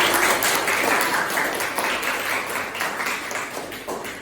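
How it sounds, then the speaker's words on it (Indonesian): Applause from a class of students fills the room, a steady, loud patter of many hands clapping together that slowly tapers over a few seconds with no talk. "Tepuk tangan bagus sekali."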